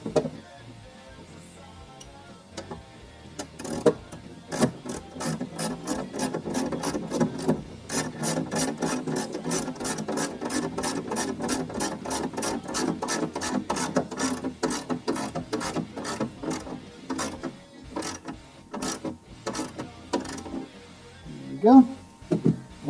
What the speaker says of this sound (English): Go ahead and bolt the air box down